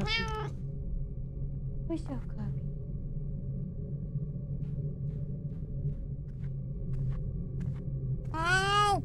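A cat in the horror video game Chilla's Art The Kidnap lets out a drawn-out, wavering meow at the start and again at the end, loud and close, over a low rumbling background hum.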